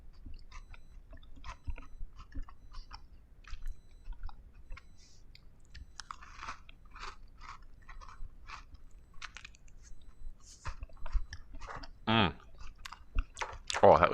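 Close, soft chewing and crunching on a sugary cookie, irregular bites and mouth clicks scattered through a quiet room.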